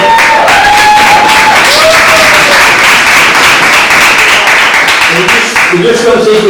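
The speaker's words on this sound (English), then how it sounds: "Big round of applause for bringing those boss on." Applause and cheering from an audience at a poetry night marking mental health and world homeless day, steady and loud from start to finish, with scattered voices and whoops rising through the crowd.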